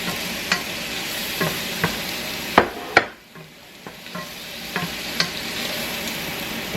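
Cabbage pieces frying in butter in a pan are stirred, with scattered scraping clicks from the utensil over a steady soft sizzle and a brief quieter dip midway.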